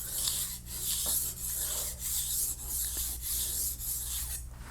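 Steady rhythmic rasping of a knife blade stroked back and forth across a fine whetstone, a soft scraping hiss repeating about every half second, close and alone.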